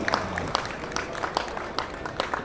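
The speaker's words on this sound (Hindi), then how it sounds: "जोरदार ताली से स्वागत करें" Applause for an award-winning innovative farmer at a farmer award ceremony: a thin, scattered patter of claps, fairly faint and distant, with a few sharper individual claps standing out.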